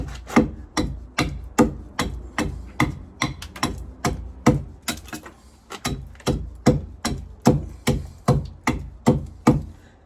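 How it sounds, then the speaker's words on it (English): Chisel chipping diagonally across the grain on the wooden deadwood of a carvel-planked boat's rudder: about twenty sharp, evenly spaced strikes, each ringing briefly, in a steady close rhythm throughout. "So you see I'm chipping across the grain, more or less, almost diagonally across the grain"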